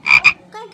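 A frog croaks indoors in two quick loud raspy bursts, followed by a softer, lower trailing croak, all close and clear with no talk.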